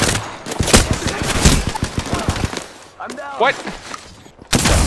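Gunfire in the video game Apex Legends, dense rapid automatic shots rattling close and loud, then a pause where a voice speaks briefly, before another burst resumes.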